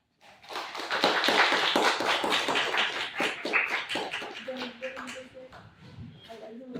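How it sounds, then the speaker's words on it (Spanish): An audience at a Bolivian book presentation bursts into scattered applause, quick dense claps filling the room and then tapering off as murmured voices take over. "Agradecemos los aplausos"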